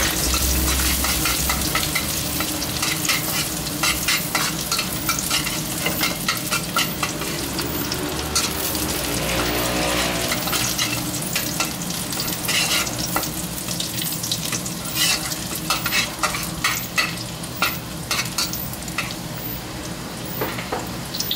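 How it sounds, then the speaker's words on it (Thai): Steady, loud sizzling of garlic stir-frying in hot lard, with constant crackle and stirring scrapes throughout and no talking. "เราจะใช้น้ำมันหมูนะครับในการผัดนะฮะแล้วกระเทียมครับ"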